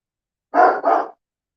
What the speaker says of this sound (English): there's a big bark